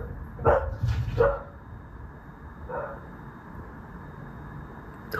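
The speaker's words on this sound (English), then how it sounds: "Who was barking?" A dog gives a few loud barks in quick succession followed by a softer single bark, indoors, then quiet.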